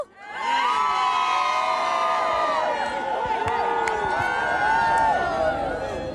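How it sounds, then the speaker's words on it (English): Dense street crowd cheering and whooping for a royal wedding couple in London, loud and continuous with high shouts and calls layered over a steady roar. "A cheer for the couple."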